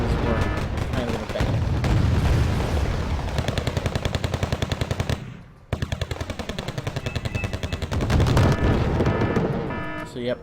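Bombing of an enemy position in a strategy video game: continuous loud rattling fire and booming blasts rolling almost without pause, a brief drop near the middle before the barrage resumes.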